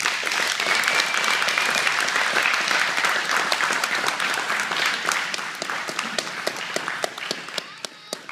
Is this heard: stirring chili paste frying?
no